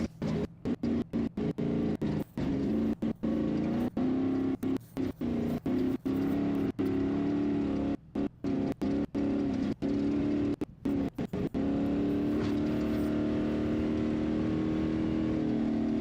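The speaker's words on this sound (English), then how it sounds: "The vehicle still sounds great." An Ultra4 race vehicle engine roars steadily at a desert race in Laughlin, loud and close, its sustained drone broken by frequent sharp dropouts before settling into a continuous hum.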